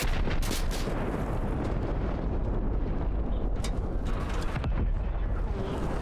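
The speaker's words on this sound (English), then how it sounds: "Explosion in the distance." A distant explosion in a modded Gogland video game: a steady, dense low rumble with a few sharper blasts rolling through, continuous and far off, with no voices.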